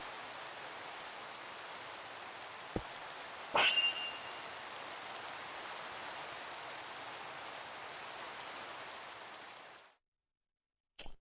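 Steady rain hisses in Minecraft, a constant even wash of falling water that stops abruptly near the end, with a couple of sharp clicks.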